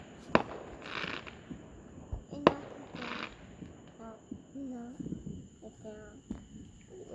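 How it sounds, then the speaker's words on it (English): Fireworks bursting outdoors on New Year's Eve, two sharp bangs with crackling tails, under excited shouting and cheering nearby. "Where's the fireworks?"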